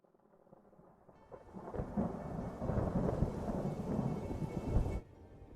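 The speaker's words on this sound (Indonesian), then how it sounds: "Saat itu cuaca sedang tidak baik, hujan berkabut, disertai angin yang kencang." Heavy rain and rolling thunder in a stormy, misty scene at the Japanese Grand Prix, swelling from quiet into a loud, sustained roar for several seconds, then cutting off abruptly.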